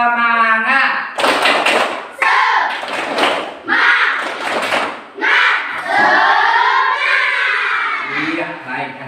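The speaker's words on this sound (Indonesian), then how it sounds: "tepuk semangat" A class of children doing a rhythmic spirit clap, loud sharp bursts of clapping in patterned groups traded with chanted words and an adult voice, all heard up close in a classroom.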